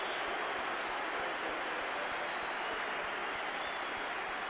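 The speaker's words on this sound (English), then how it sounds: "Gets a warm round of applause," A football crowd applauds at an Everton versus Liverpool match, a dense, even wash of clapping from a large stadium audience that holds steady throughout with no voices over it.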